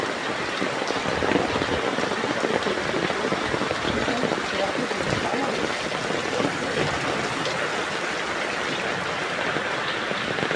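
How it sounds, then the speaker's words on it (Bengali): Heavy stormy rain pours down over a village in a dense, unbroken roar, steady and loud throughout. "খুবই ঝড়ো বৃষ্টি হচ্ছে দেখতে পাচ্ছেন চারিপাশে।"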